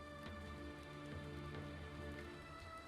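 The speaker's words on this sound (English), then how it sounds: "I can stop the rain since you guys are out of the rain at the moment." Steady rain sound effect pattering on a surface, played as a continuous background bed at moderate level with faint scattered drops, no voices.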